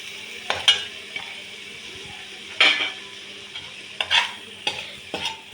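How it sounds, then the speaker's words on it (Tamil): Paneer cubes fry in oil and butter with a steady soft sizzle, broken by a few sharp scraping and clinking strokes of a utensil against the pan. No one speaks. "பன்னீர் உடையாமல் பொறுமையாக இது நல்லா வறுத்து எடுத்துக்கு வறுத்தா போதும்"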